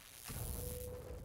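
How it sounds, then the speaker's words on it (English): A gun magazine is swapped during a reload in Call of Duty: Modern Warfare II, heard as a short mechanical rattle and click followed by a brief thud, close and quick with no talk. "Swapping mags!"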